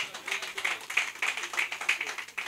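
Audience applause at a stand-up comedy show, scattered light rhythmic clapping of moderate loudness that continues steadily, with a voice speaking over it.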